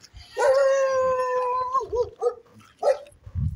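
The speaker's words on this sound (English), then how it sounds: "This is the dog of my cousin" Dog howling nearby, one long wavering howl followed by a few shorter yips and whimpers.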